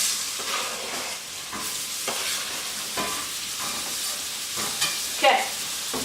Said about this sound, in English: Let's stick these onions in there.